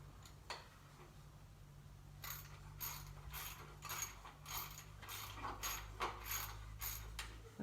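Ratchet wrench driving a part in during truck repair, giving bursts of rapid clicking in a steady rhythm over a low mechanical hum, close and fairly quiet.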